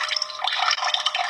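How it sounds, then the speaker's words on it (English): A kitchen faucet in a house near a data center runs with weak pressure, giving a close, bright, trickling and spattering stream heard alone without talk. "Water pressure in the kitchen."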